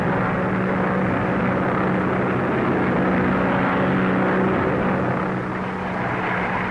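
Old propeller airplane from a 1935 film flying overhead, a steady loud droning engine hum with a low harmonic tone that holds throughout, no talk over it.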